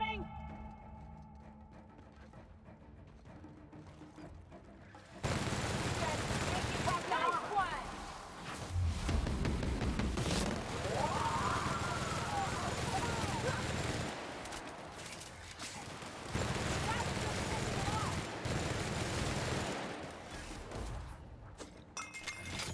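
Gunfire in the sci-fi RPG The Outer Worlds: after a quiet opening, bursts of rapid shots and crackling impacts erupt and continue in dense waves, easing briefly before resuming, with voices speaking amid the fighting.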